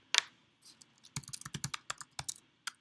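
Computer keyboard keys clatter in quick irregular bursts of close, crisp clicks after an opening tap, fairly quiet with brief pauses between runs and no talking.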